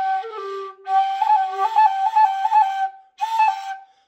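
A tin whistle plays a short ornamented phrase from a tune with uneven, smeared finger movements, then pauses and sounds a brief final note, clear and close.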